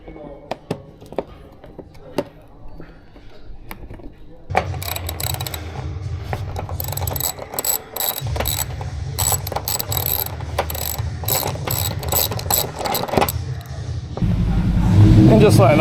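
Ratchet on a 2023 Subaru WRX (VB) clicks rapidly in bursts while under-tray bolts along the front are backed out, with mechanical rattling over a background of garage noise and a louder stretch at the end.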